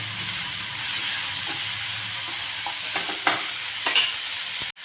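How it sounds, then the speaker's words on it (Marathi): Onion, garlic and green chili frying in a pan, a steady close sizzle and hiss running throughout, with several spatula scrapes and stirs near the end. "ह्यामध्ये मिरची आणि लसूण थोडासा अजून परतू द्यायचं ह्याला"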